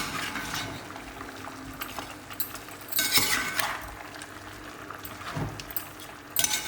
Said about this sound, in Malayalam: ഇങ്ങനെ ഇളക്കി കൊടുക്കാം